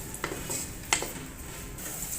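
Two finely chopped onions fry in hot oil while being stirred, giving a soft, quiet sizzle broken by a few sharp clinks of a spoon against the pan, with no talk.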